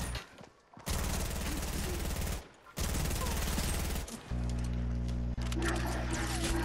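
Sustained rifle and automatic gunfire from a first-person shooter game with a hunting rifle rattles in long, dense bursts broken by brief pauses, loud and close, with a low mechanical hum beneath.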